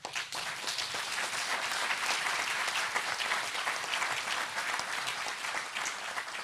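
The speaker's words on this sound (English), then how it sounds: "Let us give an applause." An audience at an event on restitution with the King of Fontem breaks into steady applause, close, dense clapping that holds at an even level for over six seconds.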